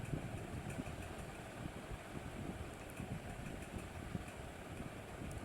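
A sewing machine stitches a salwar with a dense, continuous motor rumble and rapid needle chatter, steady and close throughout with no talking.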